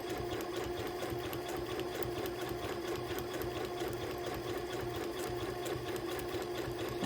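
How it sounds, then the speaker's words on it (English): A sewing machine runs continuously while satin stitching butterfly antennae on a foundation-pieced quilt block, an even, fast mechanical whirr with steady needle rhythm throughout, close and alone. "I can do it with a machine, it's a lot quicker."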